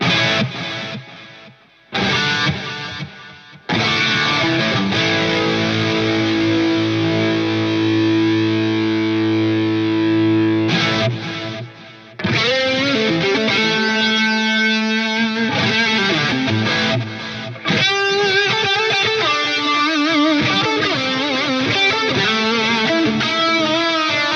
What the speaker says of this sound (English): having those delays pan around in stereo like that